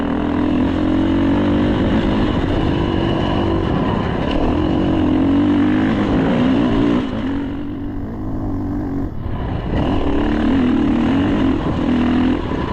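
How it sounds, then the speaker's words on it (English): A dirt bike engine drones steadily and close on a climbing dirt track through the mountains around Staceys Bridge, Mt Gibbo and Mt Pinnibar. It briefly dips around the middle, then revs back up to a loud, continuous roar. "let's hit it on the dirt bike to show you what it's like"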